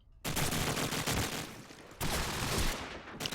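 Dense, continuous automatic gunfire in the game Call of Duty 4 during a competitive team match, loud sustained bursts with a brief dip near the two-second mark before the shooting resumes.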